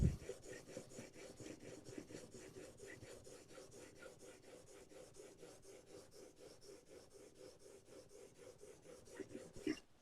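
Blade sharpening passes on a 4000 grit abrasive stone, producing a quiet, even rasping scrape repeated in quick regular strokes, steady throughout.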